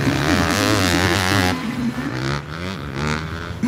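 Motocross motorcycle engines at a women's world championship race in Afyon, Turkey whine and rev loudly at close range, pitch wavering as they race past, with a brief drop before revving again.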